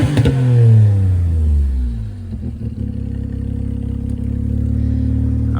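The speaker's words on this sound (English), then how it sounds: "Let's give it a rev." A four-wheel-drive car at an auction gets one loud, close rev that swells and then falls away, after which the engine settles into a steady idle.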